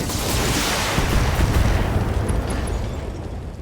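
Mech weapons firing and an explosion in the BattleTech game, a continuous heavy, rumbling blast with crackling texture that holds steady and tapers slightly toward the end.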